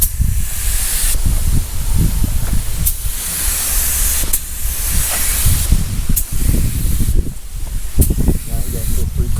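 Spray gun coating the outside of a wheel in a paint shop, a steady loud airy hiss running nearly continuously with brief pauses between passes, voices murmuring faintly underneath.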